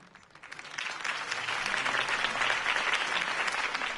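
Crowd applause at a campaign rally speech, rising from a quiet start within the first half second into sustained, dense clapping that stays loud and steady.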